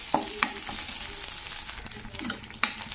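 Ginger and spices sizzling in hot oil in a pan for shukto, a steady bright fry with a few scrapes and stirring clicks, close and alone.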